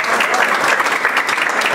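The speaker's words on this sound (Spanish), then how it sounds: "un aplauso señores para ustedes." Brief, dense burst of applause from a crowd of salespeople at a motivational sales session, continuous clapping from start to finish.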